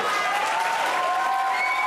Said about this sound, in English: I'm glad that the audience is cheering things I've written